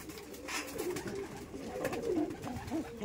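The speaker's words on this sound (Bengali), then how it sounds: "দেখুন এগুলো বাচ্চা পায়রা, বেবি এগুলো দেখুন" Baby Red Madrasi pigeons coo softly in a loft, a run of low, throaty coos repeating close by with no talk over them.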